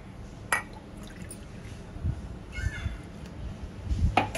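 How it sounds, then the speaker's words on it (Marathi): Two cups of water poured into kothimbir vadi batter in a kitchen bowl, a soft liquid splash with brief glassy drips and spills, close and fairly quiet, no talk. "ज्या भांड्याने आपण पीठ घेतलं होतं ना, त्याने 2 कप पाणी घालूया"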